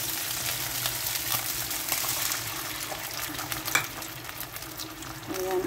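Abalone with its sauce cooking in a pan beside baby pechay, a continuous close sizzle and frying hiss with occasional stirring scrapes and bubbling, fairly loud throughout.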